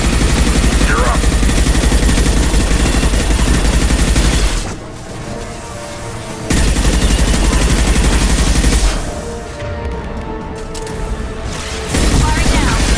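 Loud gunfire in the sci-fi shooter Mass Effect 2 during the Collectors base fight, dense sustained bursts that fill most of the clip and break off twice into brief quieter gaps, with voices talking in the scene.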